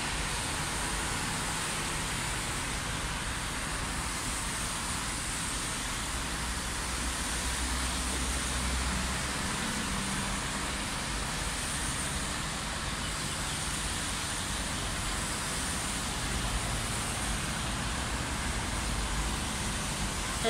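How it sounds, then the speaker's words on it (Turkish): Steady, continuous roar of car traffic on a busy street just across the way, a dense wash of passing vehicles with no clear pauses and no voices. "Karşıdan cadde geçiyor. Araba sesi çok gürültülü."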